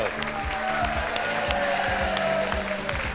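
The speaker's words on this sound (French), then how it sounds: "On l'applaudit" Steady clapping from a television game show audience fills the whole stretch, dense and continuous, with a murmur of voices and music underneath.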